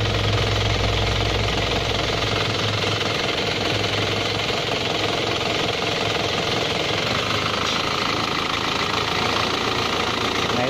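A car engine runs at a steady idle during a radiator thermostat check, its continuous mechanical rumble and faint knocking holding close and loud throughout with no voices.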